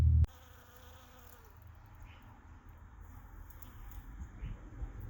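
Pollinating insects buzz faintly in a garden with dandelions, a soft steady drone after a brief sharp knock at the start, with quiet background noise.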